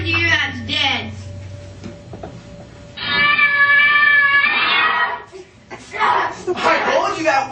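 A cat meows and yowls in short, drawn-out cries, with one long, loud wail in the middle, mixed with speech and a few thumps nearby.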